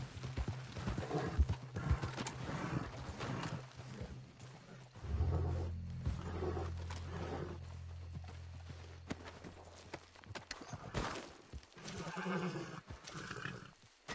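Horse hooves clip-clopping at a walk in Red Dead Redemption 2, steady rhythmic hoofbeats close by, with a whinny and a low droning hum partway through.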